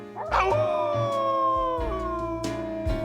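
Several hounds howl together in long, wavering, overlapping cries under a full moon, loud and close, with low rumbling underneath; a cartoon scene.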